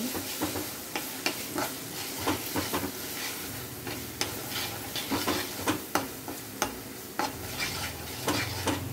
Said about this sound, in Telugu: మసాలా ఫ్రై చేసుకోవాలి.